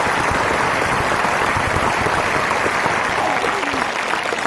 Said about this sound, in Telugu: గట్టిగా చప్పట్లు కొట్టారు.